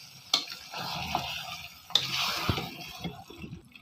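Marinade water splatters and sizzles in a hot pan of frying non-veg Khatti Phaal while it is stirred, with sharp stirring clatters near the start and middle over a steady close sizzle.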